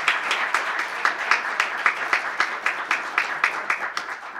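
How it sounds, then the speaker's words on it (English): Audience applause welcoming panelists at the Cleveland International Film Festival 2016 documentary panel: steady, dense clapping with rhythmic peaks, moderately loud and sustained, with no talking over it. "Let's give them a round of applause."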